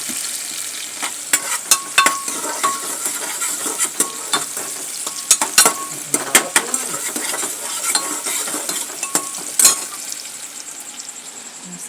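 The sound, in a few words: frying onions and potatoes in a pan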